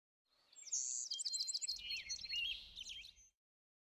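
A small bird chirping in Love and Deepspace, a quick run of bright, close tweets and trills lasting a few seconds over a faint low rumble.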